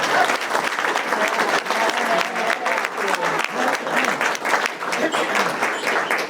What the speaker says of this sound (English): I want everybody to give a round of applause to yourselves for being here on a Saturday morning.